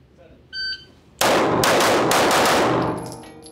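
Rapid competition pistol gunfire during a shooting stage, a loud burst of closely spaced shots ringing out after a short electronic beep, with a trailing metallic ring as the volley fades.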